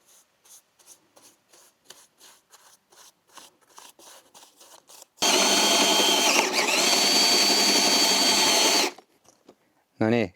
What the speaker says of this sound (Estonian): No nii, kes see selle sirgelt puurib?